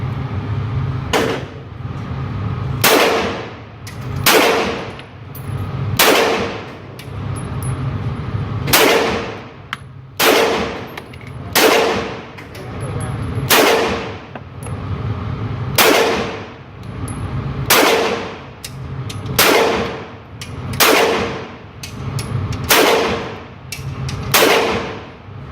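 A 17 mag gun firing PMC ammo at a shooting range: a long series of sharp, loud shots at a fairly regular pace, about one every second or two, each ringing briefly before the next.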